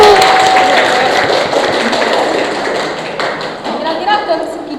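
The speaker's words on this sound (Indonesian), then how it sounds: "Tepuk tangan dulu." Applause from a studio audience at an Indonesian local-entrepreneur talk show, a broad steady wash of clapping that slowly thins out, with voices mixed in.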